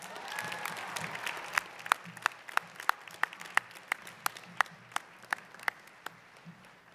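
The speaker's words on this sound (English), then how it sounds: "give him another round of applause" Audience applause at an NYPD police academy graduation award presentation, a dense crowd clapping that builds into a steady patter with distinct sharp individual claps standing out near the front over several seconds.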